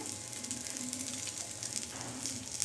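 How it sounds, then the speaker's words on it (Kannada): Curry leaves fry in a hot pan with a steady, close crackling sizzle, continuous and even throughout with small pops, no voices over it. "ಈಗ ನೋಡಿ, ಕರಿಬೇವೆಲ್ಲ ಚೆನ್ನಾಗಿ ಫ್ರೈ ಆಗ್ತಾ ಇದೆಯಲ್ಲ"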